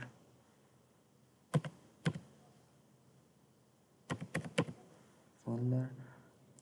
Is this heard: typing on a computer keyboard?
yes